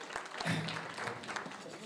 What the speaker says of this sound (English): please a round of applause for the FAST alumni